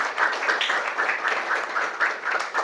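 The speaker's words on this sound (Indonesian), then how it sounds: "Tepuk tangan buat kita semua" Audience clapping at a coding and AI training session, a moderate, even patter of many hands with a slightly pulsing rhythm, fairly close and without talk.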